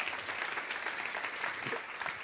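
A church audience bursts into loud, sustained applause, dense overlapping hand claps from a large crowd filling the room without pause.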